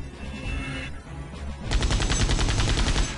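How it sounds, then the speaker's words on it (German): Video-game gunfire in Septerra Core: a muffled shot, then a rapid, loud burst of repeated shots fired in quick succession. "Macht halt Arime jetzt nochmal einen Schuss."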